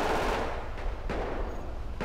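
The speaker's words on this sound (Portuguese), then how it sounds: "tá dando uns tiros, não, é aqui a loja de tiro" Gunfire from a shooting range shop in the GTA 5 video game, several sharp shots in a quick uneven series, moderately loud over a dense background.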